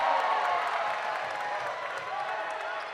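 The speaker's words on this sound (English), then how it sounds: "Kind of woke the crowd up" Home basketball crowd at a Georgia College men's game on Senior Day cheering and whooping after a missed technical free throw, a loud, steady roar of many voices filling the gym for the full stretch.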